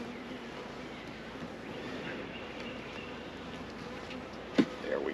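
Honey bees buzzing steadily in an open hive during a honey flow inspection, a continuous low drone with a brief knock near the end.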